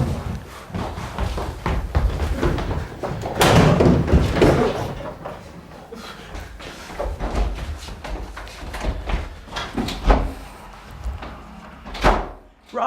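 A door thuds shut as a man leaves through it after finding his way to the exit, a few knocks and bumps around it over low background noise.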